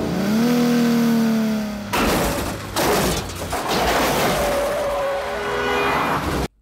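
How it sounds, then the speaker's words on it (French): A roaring car chase from a William Friedkin film: an engine whines and revs, then bursts of loud crashing, screeching and impacts pile up in a dense, chaotic, close rush. "une nouvelle grande poursuite en voiture"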